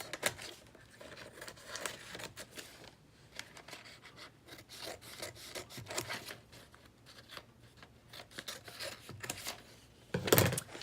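Scissors snipping the corners of a paper liner for a wooden soap mold, quiet intermittent cuts and crinkles of the liner, with a louder rustle near the end and no talk.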